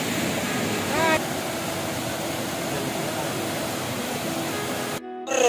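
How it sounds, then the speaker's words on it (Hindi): Nilam Sarai waterfall in Bijapur district, Chhattisgarh, gives a constant, loud, broadband rush of falling water that stays steady until it cuts off abruptly near the end. "फाइनली गाइस वाटरफॉल पहुंच चुके हैं"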